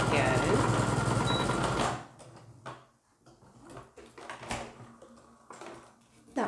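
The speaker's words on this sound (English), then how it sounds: "just with a lovely straight line of stitching. Little reverse to start and finish, and then all the way down to the other end" Sewing machine running a straight seam on a wrap skirt: a close, steady two-second stretch of stitching that then stops, followed by quieter handling sounds and some speech.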